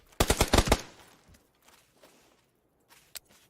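Gunfire in the video game PUBG, a sharp rapid burst of about six automatic shots up front, followed by faint scattered clicks and a single distant shot later, with no talk.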